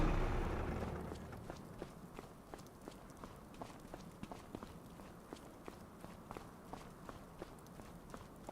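Footsteps in the video game Farming Simulator 25, a steady walking rhythm of soft, evenly spaced steps heard fairly close, following a brief fading rumble at the start with no talk over them.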